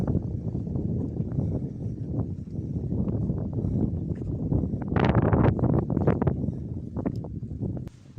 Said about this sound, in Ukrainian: Думу, є вітер, так і аж верби шумлять. Страшне сьогодні вітряно.